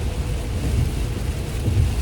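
Heavy rain drums steadily while driving through New York City, a dense, low, continuous roar of water and road noise heard from inside the car, with no voices.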